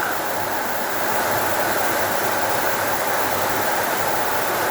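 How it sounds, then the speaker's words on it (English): Steady, dense hiss of rain falling outdoors on a workshop yard near a Series 2 Land Rover, loud and unbroken with no clear individual drops. "Sorry about the rain."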